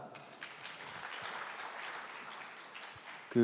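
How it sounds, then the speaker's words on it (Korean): A conference audience welcomes a presenter onto the stage with a round of clapping that is moderately quiet and spread evenly through the hall. A louder sound briefly cuts in at the very end. "큰 박수로 발표 청해 보시죠."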